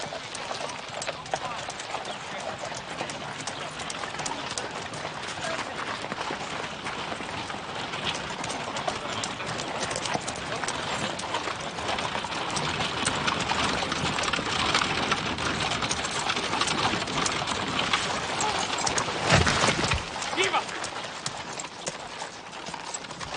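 Horse hooves clip-clop in a steady, busy rhythm, moderately near, with a brief louder clatter toward the end.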